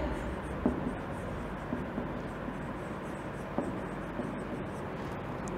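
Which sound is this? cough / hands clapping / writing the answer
writing the answer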